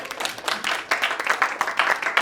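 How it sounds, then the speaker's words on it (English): Audience applause in a theatre during a stage show, a dense, steady patter of many hands clapping close and fairly loud throughout, swelling slightly toward the end. "Let's hear a round of applause for us for picking ma'am"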